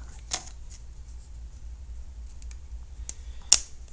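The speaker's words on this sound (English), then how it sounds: "Can't get my scissors to go back together." Scissors handled while unboxing a wireless mouse make a few sharp, separate clicks and taps against an otherwise quiet background.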